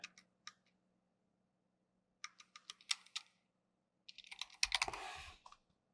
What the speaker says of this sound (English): type in the username you created, and then your password